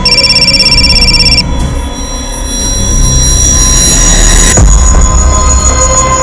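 A telephone rings in a bright, repeating electronic trill for about a second and a half, then stops and leaves a steady hum and low rumble in a tense police crime-drama scene.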